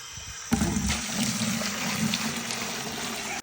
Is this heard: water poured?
yes